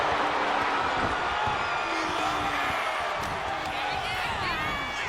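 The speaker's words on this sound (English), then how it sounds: "hitting the turnbuckle and shaking the whole ring" Wrestler slamming into the turnbuckle and shaking the ring in the WWE 2K26 game, heavy thuds amid a constant roaring arena crowd with whoops and cheers, while a commentator talks over it.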